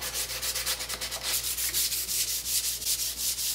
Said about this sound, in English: take a piece of 150 grit sandpaper and just go over the existing coat of stain